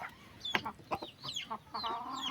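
A red junglefowl (labuyo) clucks close by in short, irregular bursts, with a few sharp taps and faint chirps mixed in.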